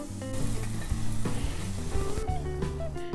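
Onions fry in a pot on a hob turned up to high heat, a steady close sizzle with a few scraping stirs and no talking.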